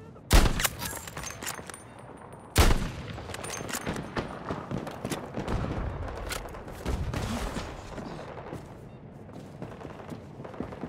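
Sniper rifle fire in Battlefield 2042 realistic mode: two loud, sharp shots early on, followed by a steady wash of distant battlefield gunfire and rumble.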